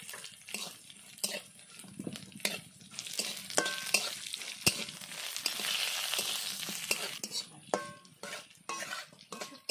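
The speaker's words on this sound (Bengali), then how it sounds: "সবগুলো ভেজে নিয়েছি, তুলে নেব" Dried red chili, green chilies and black cumin frying in hot oil, a close crackling sizzle broken by rapid, repeated clacks of a spoon stirring against the pan, no talk.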